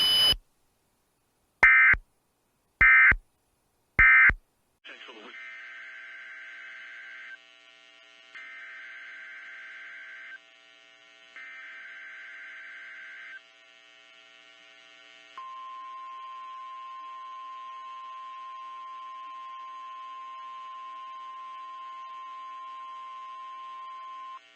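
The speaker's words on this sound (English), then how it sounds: "official messages would have followed the alert tones" Emergency Alert System broadcast tones: four sharp data bursts, then three repeated blocks of a harsh two-tone attention signal, followed by a long steady single tone, loud and alone.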